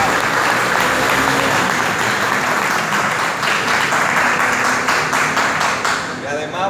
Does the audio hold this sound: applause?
yes